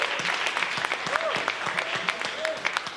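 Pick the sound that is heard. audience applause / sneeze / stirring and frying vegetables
audience applause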